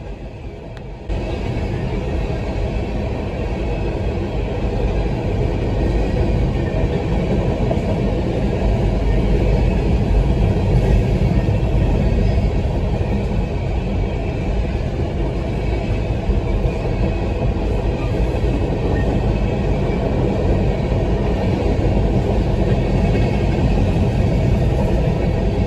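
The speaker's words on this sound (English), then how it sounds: "got stopped by what would appear to be a westbound empty grain train" A long empty westbound grain train rumbles steadily past close by, a continuous heavy roar of rolling wagons and clanking wheels with no voices.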